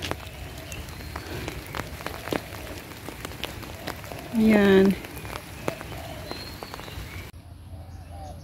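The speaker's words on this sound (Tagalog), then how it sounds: "Pero ngayon umuulan." Rain patters steadily on surfaces with scattered drops, while a brief short word and a faint tonal sound break in midway.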